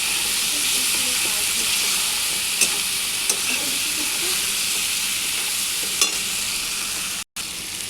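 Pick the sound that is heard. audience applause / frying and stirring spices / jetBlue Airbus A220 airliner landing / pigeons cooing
frying and stirring spices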